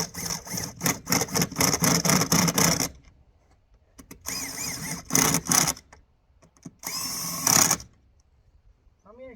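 A power tool tightens the wheel on a Willys Jeep in three loud, harsh bursts: a long run, a shorter one and a brief final burst, separated by near silence.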